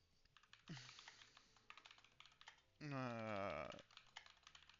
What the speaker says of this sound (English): give me like 10 seconds to type this out